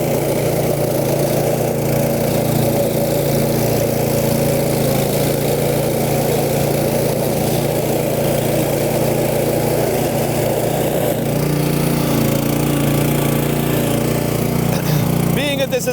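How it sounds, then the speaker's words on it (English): A Boss Snowrator snow plow's engine runs steadily and close by as the machine lifts its blade, skid-steers around and turns, with the engine note shifting slightly partway through the maneuver. "lift my blade, skid steer the thing around, angle the other direction, and off we go."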